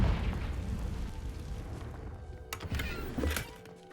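A Confringo spell blast in Hogwarts Legacy, a deep rumbling boom that fades, followed by a couple of sharp bursts near the end, fairly quiet overall.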